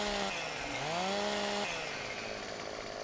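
A chainsaw in the Farming Simulator 15 video game starts up, its engine note rising in pitch, then settles into a steady, loud buzzing idle.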